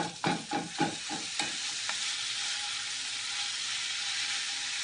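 Quick scraping stirs at the start, then a steady soft sizzle of chopped Italian sausage browning in a hot pan, fairly quiet and close.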